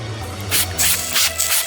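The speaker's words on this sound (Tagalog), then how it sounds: "Ang mga spray fire extinguisher na ito ay pangalawang beses na tayong iniligtas" A spray fire extinguisher lets out short, loud hissing bursts, about three or four close together, over a steady low hum.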